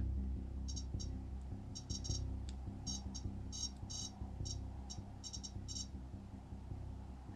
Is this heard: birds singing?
no